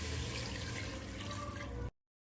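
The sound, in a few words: pouring one litre of water into pot for mutton soup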